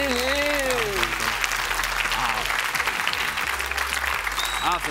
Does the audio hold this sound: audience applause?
yes